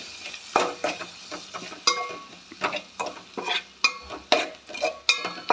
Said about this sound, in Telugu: అల్లం వెల్లుల్లి పేస్ట్ కూడా వేసుకోవాలి ఇందులోనే, ఎందుకంటే పచ్చివాసన పోతుంది కదా, అందుకోసం అని వేసేసుకొని ఇప్పుడు కొంచెం కలిపేసుకోవాలి.